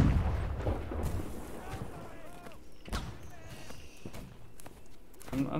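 Cannon and musket fire in the video game Holdfast: Nations At War, Battle of Corneille map, with several sharp booms at irregular intervals over a rumbling battlefield din, talk mixed in.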